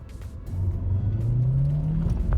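A 2024 Hyundai Tucson SUV pulls away from a quick stop. The engine rises in a smooth, steady rev with a low whirring rumble, close and alone, and no one talks.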